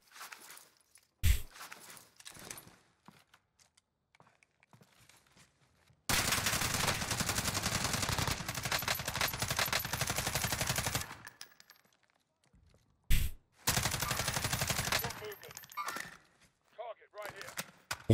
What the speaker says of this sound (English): now we're shooting a team over to the north